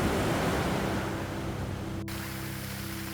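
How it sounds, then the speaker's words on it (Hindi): Ocean waves surge hard onto the beach at Thiruvananthapuram, Kerala, a steady loud wash of surf with a constant roar and no voices. "लहरें पूरे वेग से किनारे पर आ रही थी।"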